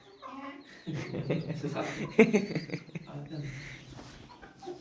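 Rooster clucking among hens in a Polish poultry yard, several short clucks and calls close by, mixed with background bird sounds while people talk over them and laugh.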